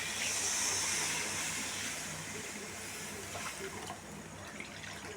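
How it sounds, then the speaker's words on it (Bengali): Coconut milk going into a simmering prawn malai curry in a pan, giving a steady, fairly loud hiss and bubbling sizzle that slowly eases over a few seconds, with no talking. "এবার দেব নারকেলের দুধ।"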